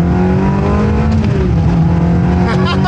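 A Ferrari engine pulls hard through second gear, a loud steady high-revving drone with a rising tone from inside the car.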